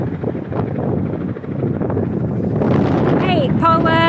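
Wind buffets a microphone outdoors at sunset in Tulsa, Oklahoma, a constant low rumbling roar that swells toward the end, with a voice talking through it.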